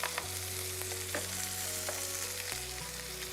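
Shredded cabbage for a chana dal kootu drops into a hot frying pan, giving a steady close sizzle with faint stirring, set against soft background music.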